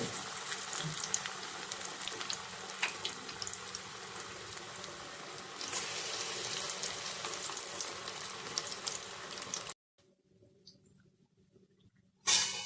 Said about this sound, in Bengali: সেই জন্য গ্যাসটাকে সিমে রেখে দিয়ে আমি কোপ্তাগুলোকে ভেজে তুলব